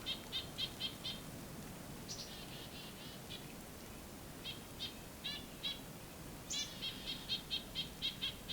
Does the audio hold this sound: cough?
no